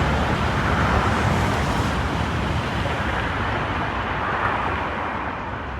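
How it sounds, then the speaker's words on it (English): A bullet train in Japan rushes past nearby as a steady, loud roar of broadband wind and rail noise that stays strong throughout and eases slightly toward the end. "Oh, there goes the bullet train."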